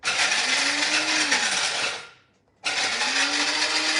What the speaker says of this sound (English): This is why we are using my grandmother's coffee grinder